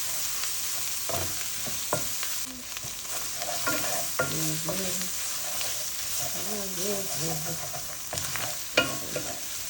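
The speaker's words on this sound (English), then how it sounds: "I'm going to add some tomato paste" Tomato paste frying with shrimp in a hot pan, a continuous bright sizzle with intermittent scraping and stirring strokes, with faint voice-like tones in the background.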